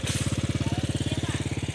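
A motorcycle engine chugs close by in a steady, rapid pulsing rhythm, loud and even throughout a short stretch beside a durian seedling nursery in Salaman, Magelang.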